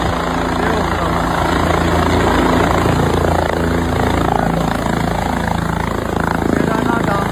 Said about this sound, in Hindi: केदारनाथ धाम में हेलीकॉप्टर की सेवा।